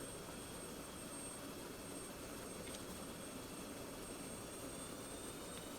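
An F-16 jet engine in the DCS flight simulator hums at idle as the throttle comes up, a faint steady whine and rumble with no clear rise across the stretch.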